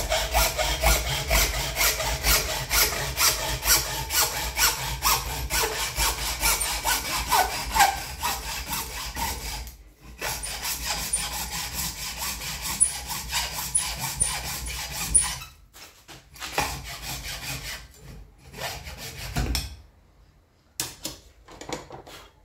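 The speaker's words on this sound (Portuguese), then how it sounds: "Fazer uma pausa e vou serrar." A hand saw cuts through cattle horn clamped in a vise to shape a knife handle, steady back-and-forth rasping strokes running loud and close, pausing briefly a few times before resuming.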